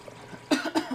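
A single person coughing twice in quick succession, close by, against a quiet background.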